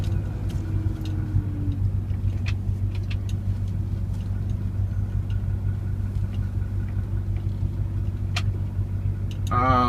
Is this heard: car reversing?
yes